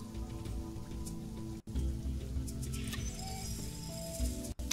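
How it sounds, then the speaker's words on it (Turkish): Rain falls in the video game Sheltered as a steady, dense patter that breaks off twice very briefly, with faint tonal game sounds beneath it. "Tamam, yağmur yağdı."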